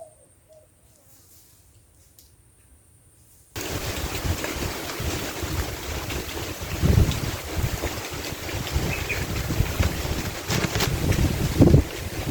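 After a few quiet seconds, strong wind with rain suddenly roars and buffets the microphone, gusting loudly and continuously to the end.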